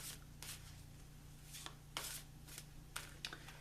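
Quiet riffles of angel oracle cards being shuffled, several short papery bursts at irregular intervals, close and faint with no talking.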